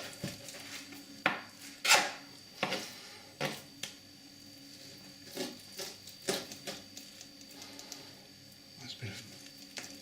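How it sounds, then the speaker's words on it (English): Knife chopping raw ox cheeks into chunks on a board, a series of irregular close knocks and scraping cuts with a few sharper clacks, under light background noise. "So I'm just going to chop these up into nice little chunks."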